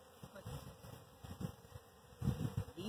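A busy swarm of honeybees from a newly installed package hums and drones nearby, a soft continuous buzzing with swelling bursts as individual insects pass close.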